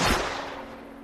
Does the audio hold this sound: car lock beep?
no